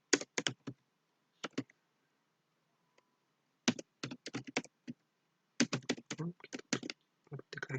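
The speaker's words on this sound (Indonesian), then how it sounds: "ketik lagi" Computer keyboard typing heard up close in quick clicking bursts separated by short pauses, with a denser flurry of keystrokes near the end and no talking.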